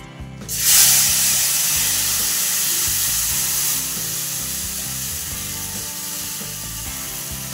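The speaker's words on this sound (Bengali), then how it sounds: "ভালো করে একটু ভেজে নেবো" Freshly washed rice drops into hot fat for khichuri and bursts into a loud hiss, then settles into a sustained, crackling sizzle. Faint music plays underneath.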